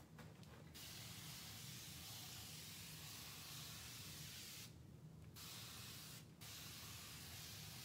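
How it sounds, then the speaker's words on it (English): A spray bottle hisses in a few short bursts during a finger painting and craft session, heard as faint airy spritzes over steady background noise. "We need to be spraying up in here."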